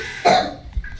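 A young child gives a single sharp cough close by, followed by a brief softer catch, with nothing else around it.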